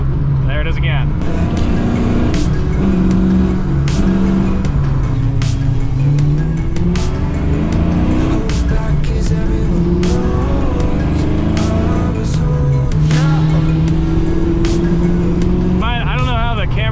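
A 1990 Ford Foxbody drives under load, its engine droning loudly and steadily with pitch rising and falling through gear shifts, and a brief higher whine near the end.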